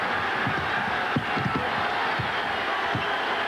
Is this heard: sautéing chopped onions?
no